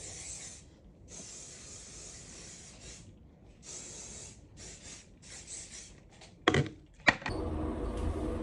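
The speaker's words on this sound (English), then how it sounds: "spray everything real quick." Hairspray misted over a styled hairdo during a flying-dress photoshoot in Dubai, heard as repeated hissing bursts of varying length, fairly close, followed by a couple of sharp knocks and a steady rushing noise at the end.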